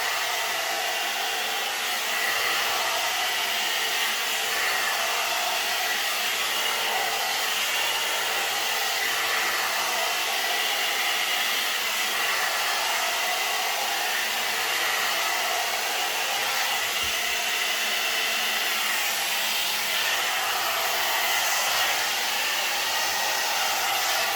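A blow dry brush runs steadily while drying hair, a continuous loud airy whoosh lasting the whole stretch with only slight shifts in pitch and no talk.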